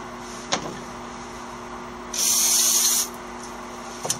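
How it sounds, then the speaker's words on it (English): Brake cleaner sprays onto the gasket mating surface of a 2009 Nissan Versa 1.8 engine, a single loud, close hiss lasting about a second amid faint clicks and handling noises. "now you're gonna need a rag, some brake cleaner. We're going to clean up this gasket mating surface."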